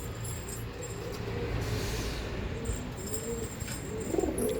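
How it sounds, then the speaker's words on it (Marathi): Champion-line pigeons coo softly at a low pitch beneath a constant hum of background noise, the calls faint and repeated. "चॅम्पियन लाईनचे पण कबूतर मी आणलेले आहेत."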